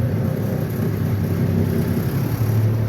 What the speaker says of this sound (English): and start the truck